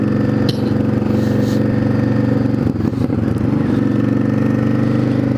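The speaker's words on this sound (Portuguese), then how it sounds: "O som do escapamento extremamente alto, estourando no microfone." A Yamaha DragStar 650 motorcycle's exhaust roars very loud and close throughout, overloading the microphone, with a rough, pulsing engine note and a brief dip partway.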